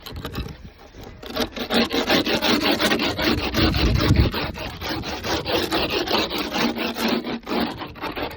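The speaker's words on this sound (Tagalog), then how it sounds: "Kailangan ko siyang kuskusin kasi matagal siyang ma-defrost." Steady rough scrubbing at hard ice on a frozen surface in cold Canadian weather, a dense rasping scrape with repeated strokes that stays loud and close for the whole clip, with no voices.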